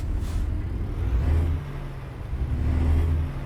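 Steady low truck engine rumble from American Truck Simulator on a first night haul, swelling twice as it revs, with a faint whir on top and no talk.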